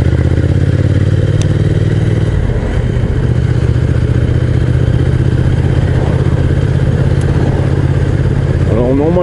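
A motorcycle rides a mountain road between Sallanches, Megève and the Gorges de l'Arly, its engine droning steadily and close throughout, with rushing wind noise and a shift in pitch partway through.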